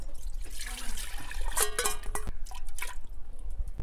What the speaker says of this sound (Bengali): এই মশলা পেস্টটা আমি দিয়ে দিচ্ছি প্রেসার কুকারে।